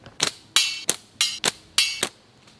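Slingshot ammo striking a target, six sharp, loud cracking impacts in quick irregular succession, close and alone with no talking.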